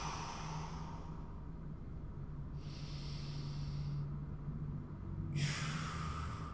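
Slow deep breathing during a hip and upper-back stretching exercise, alternating airy inhales and exhales in a regular rhythm, close and fairly quiet, with a faint low hum beneath.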